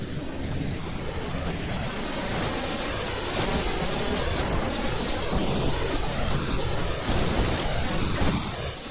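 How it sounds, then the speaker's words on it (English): Heavy rain from Cyclone Ida in far north Queensland pours steadily with rumbling thunder rolling underneath, a dense, continuous roar of water and storm. "Cyclone Ida has dumped 16 inches of rain across far north Queensland"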